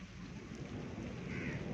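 Steady stormy rain falling on a village in Bhakkar district, Punjab, in a dense, even hiss with a low rumbling undertone, continuous and fairly faint, no voices.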